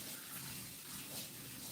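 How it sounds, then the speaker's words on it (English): A water tap runs steadily while hands are washed at a kitchen sink, a continuous faint hiss and splash with slight swells, heard alone at a distance. "I'm going to go ahead and wash my hands real quick"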